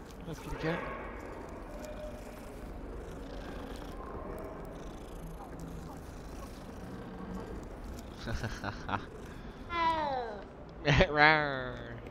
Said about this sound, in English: We're out here petting cats, doing Leviosa.